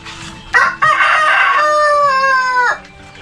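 A free-range village rooster crows loudly and close by, one long drawn-out cock-a-doodle-doo lasting about two seconds, with short clucks from chickens before it.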